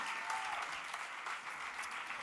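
A concert audience claps warmly for a school band after their set, a dense, continuous burst of applause from many hands throughout, even and moderately distant, with no voices.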